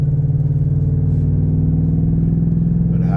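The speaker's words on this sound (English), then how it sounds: "But how about that exhaust note" A race truck's exhaust drones loud and close, a deep, steady engine note with a throbbing rhythm that holds through the whole stretch, with no voices over it.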